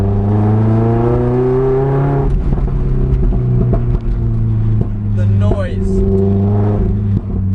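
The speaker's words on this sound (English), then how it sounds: "The noise from this Larini exhaust, naturally aspirated engine, is just something else" A Lotus with a naturally aspirated engine and a Larini exhaust revs loudly and close, the pitch climbing and then dropping in several pulls, with someone talking over parts of it.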